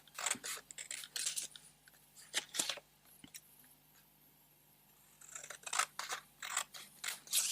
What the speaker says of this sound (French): On va couper également en deux sur le trait